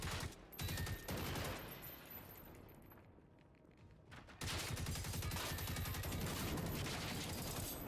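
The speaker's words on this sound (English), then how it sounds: "Stop shooting fire at me," Gunfire aimed at the player in the video game Generation Zero, heavy rattling volleys at the start, a quieter lull, then a sustained loud barrage of rapid shots.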